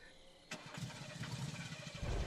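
A car engine in the Friday the 13th video game cranks and catches at about half a second, then settles into a low rumbling idle that swells louder toward the end, with no talking.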